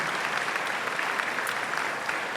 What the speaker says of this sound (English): If you could give a round of applause and help us thank the Manatee Chamber of Commerce staff.